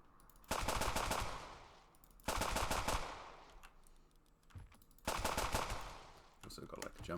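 Bursts of rapid automatic gunfire from a top-down zombie shooter game come in three loud, sustained volleys, each lasting about a second, separated by quieter gaps with faint clicks.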